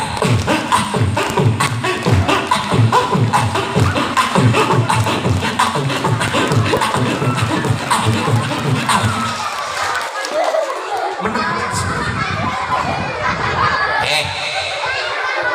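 A crowd of children and adults at an Eid al-Adha religious gathering claps together in a dense, rhythmic burst for several seconds, then scattered cheers and children's shouts follow as the clapping fades.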